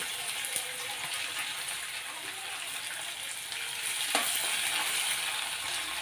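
Chopped onion frying in a hot pan gives a steady, broad hiss that stays close and even throughout and grows slightly louder near the end.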